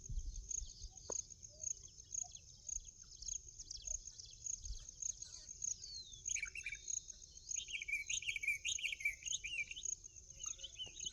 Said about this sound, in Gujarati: ને બીજા ચકલા આવવા માંડ્યા છે.